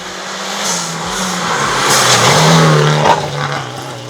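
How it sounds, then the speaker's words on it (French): Rally cars at the San-Pedro rally race at full speed over rough terrain, their engines roaring loud and steady with rising revs, heard alone without talk. "surtout lorsque les voitures déboulent à pleine vitesse dans des terrains accidentés"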